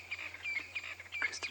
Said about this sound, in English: Crested francolins mainly.